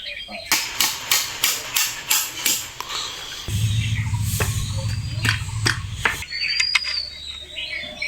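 Hammer blows fix parts onto a handmade bamboo-wood toy truck: a steady run of sharp, close taps, then a low machine-like drone with scattered knocks beneath it.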